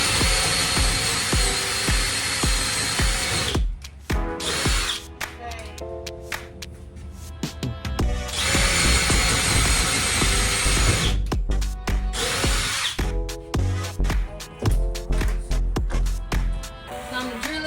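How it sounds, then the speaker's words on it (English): A power drill drives into wood during a school bus conversion build, in loud whirring bursts separated by short pauses and repeated several times. Background music plays underneath. "Time to drill it in."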